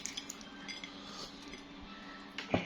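Metal cutlery clinks and scrapes against a plate during an evening meal of rice with side dishes, quiet scattered taps and a louder clatter near the end, with no speech.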